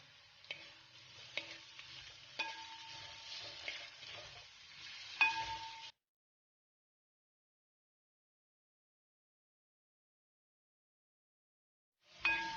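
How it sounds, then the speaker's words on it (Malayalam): Three finely chopped onions sauté in a pan for Kerala-style kappa biriyani, a faint sizzle with intermittent spatula taps and scrapes for about six seconds, then near silence before the sizzle briefly returns at the end. "ഇനി നമുക്കിതിലേക്ക് 3 സവാള ചെറുതായിട്ട് അരിഞ്ഞത് ഇട്ട് കൊടുത്ത് നല്ലപോലെ ഒന്ന് വഴറ്റിയെടുക്കാം."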